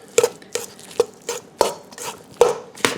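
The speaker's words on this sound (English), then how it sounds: "we're just going to go ahead and break this up and stir it up" Ground beef is broken up and stirred in a pan for stuffed bell peppers, a series of sharp scraping knocks of the utensil against the pan, about seven evenly spaced strokes, close and fairly loud.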